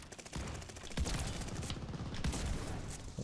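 Gunshots in Call of Duty: Vanguard: dense, rapid automatic fire with rattling bursts and booming low thuds, fairly faint and continuous for a few seconds, with no one talking.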